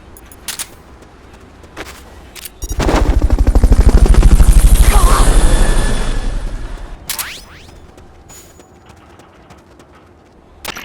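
Helicopter in the video game Metal Gear Solid: Peace Walker, a loud rotor chop swelling in around three seconds, holding steady, then fading out, with sharp clicks and thuds before and after.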